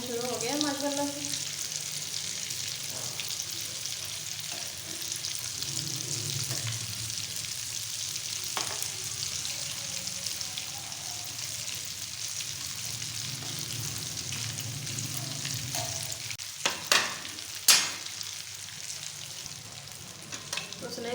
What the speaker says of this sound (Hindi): स्नैक्स हमारे फ्राई होना शुरू हो गया माशाल्लाह से।